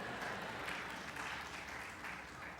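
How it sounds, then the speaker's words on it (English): A congregation at a Rosh Hashanah service claps together in a soft, steady wash of applause that sounds distant and muffled, with no distinct individual claps. "You can clap. Go ahead and clap."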